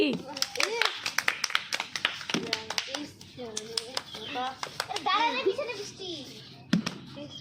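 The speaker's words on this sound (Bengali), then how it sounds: "হাততালি" Children playing a bottle game break into short bursts of clapping, loose and uneven, amid excited kid chatter and an adult voice talking throughout.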